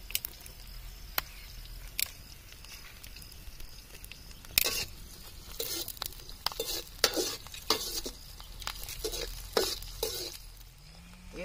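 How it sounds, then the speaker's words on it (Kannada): Onions frying in a pan with chopped green chillies added, a steady sizzle broken by repeated spatula scrapes and stirring clatters that grow busier partway through, close up with no talking. "ಈರುಳ್ಳಿ ಒಂಚೂರು ಹುರ್ಕೊಂಡಿದ್ದಾದ್ಮೇಲೆ ಒಂದು ಸ್ವಲ್ಪ ಮೆಣಸಿನ್ಕಾಯಿ ಹಚ್ಕೊಂಡಿರೋ ಮೆಣಸಿನ್ಕಾಯಿ ಹಾಕ್ಕೊಳ್ಳೋಣ."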